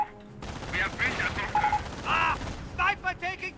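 Gunfire in the World War II strategy game Company of Heroes crackles in quick bursts beneath shouted voice lines and other chatter, loud and busy throughout.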